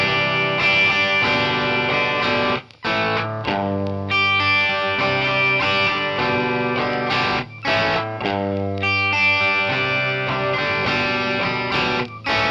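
Electric guitar through distortion and chorus effects plays the chord progression of a song at slow tempo, sustained overdriven chords ringing continuously with a few brief gaps between changes.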